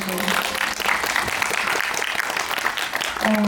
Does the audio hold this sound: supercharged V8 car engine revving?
no